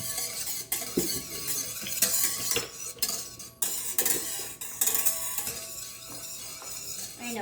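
Pancake batter for rainbow pancakes being mixed in a bowl, with repeated clinking and scraping of a utensil against the dish in uneven bursts, close and fairly loud, with no talking.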